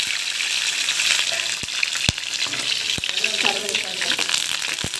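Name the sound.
green chillies and cumin sizzling in hot oil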